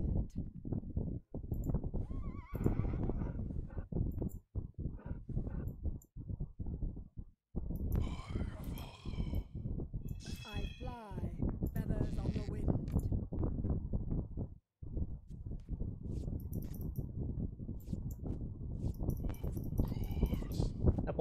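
Horses neigh and gallop in the strategy video game Battle Realms, with steady hoof clatter and a few whinnies running through the whole stretch, mixed with game sounds and someone talking over it.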